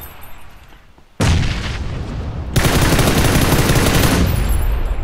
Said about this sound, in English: I'm throwing all my grenades.